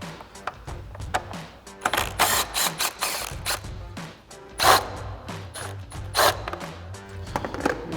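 Ratchet wrench with a 10mm socket backing bolts out of a 2019-2024 RAM 2500 during a fog light install, giving bursts of rapid, close mechanical clicks with short pauses between runs.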